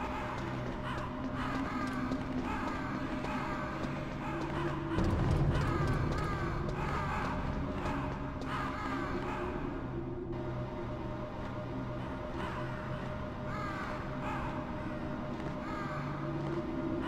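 Crows in the video game Metal Gear Solid give repeated harsh caws throughout over a steady background drone, a few nearby and some further off, with no talk.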